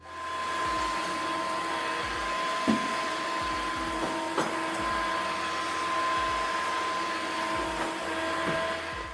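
A MOVA M50 Ultra washing vacuum cleaner in automatic mode drones evenly and continuously, a steady motor whine with faint intermittent knocks and bumps underneath.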